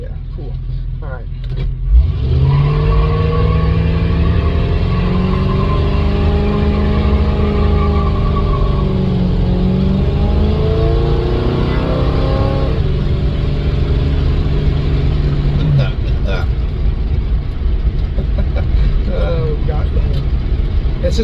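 A Chevrolet Chevelle with a 350 single-carburetor V8 revs hard and then settles to a steady idle, the engine loud and close throughout, with the pitch climbing and falling through the revs.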